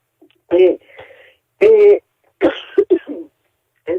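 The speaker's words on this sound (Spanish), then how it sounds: "ya me atacó un poco la tos" Several short, dry coughs close by, spaced irregularly with brief silences between them.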